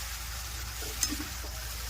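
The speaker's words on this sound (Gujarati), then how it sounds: "મસ્ત મજાનો વઘાર થઈ ગયો છે ભાજીનો" A faint, steady sizzle of spices and fenugreek greens frying in a pan, with a soft scrape of stirring partway through.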